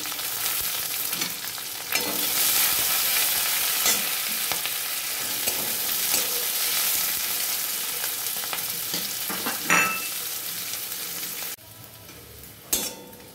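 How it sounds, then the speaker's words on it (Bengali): Chopped onions and crushed garlic frying in oil with panch phoron, dried red chilli and bay leaf, a continuous sizzle with stirring scrapes and a few clinks, quieter near the end. "পেঁয়াজগুলো ভাজা ভাজা হয়ে গেছে।"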